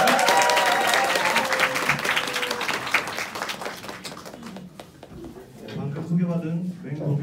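An audience claps and cheers to welcome a speaker to the stage at a talk on business opportunities in China. The dense, loud applause fills the room and then thins out as a single voice begins speaking.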